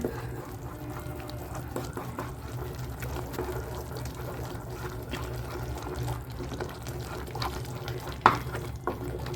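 Roasted semolina and ragi flour upma stirred in a pan over a lowered flame makes a soft, continuous scraping and faint sizzle, quiet and steady, with one brief metallic knock near the end.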